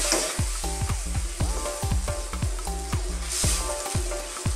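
Halabos shrimp stir-fried in a pan with oyster sauce, loud continuous sizzling under rapid, rhythmic scraping and clanking strokes of a spatula stirring, close up with no talking.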